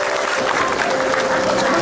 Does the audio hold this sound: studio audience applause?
yes